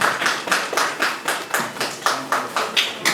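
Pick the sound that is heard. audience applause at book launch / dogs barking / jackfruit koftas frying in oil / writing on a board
audience applause at book launch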